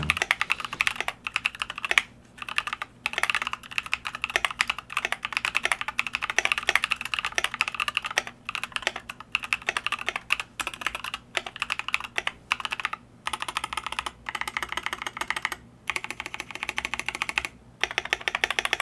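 Fast typing on an Idobao ID80 mechanical keyboard in grey fitted with MT3 Susuwatari keycaps: close, crisp clacking keystrokes in rapid bursts, broken by short pauses.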